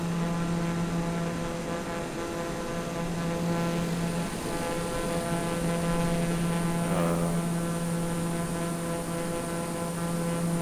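A TBM 930 single-engine turboprop cruising in Microsoft Flight Simulator over the Caribbean at sunset, its steady cockpit drone and tonal engine hum constant and loud throughout, with no voices.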